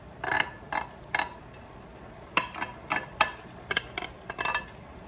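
Onion, shallot and garlic being stirred in oil in a pan, with a series of light scraping and clinking strokes from the utensil against the pan and a faint sizzle underneath.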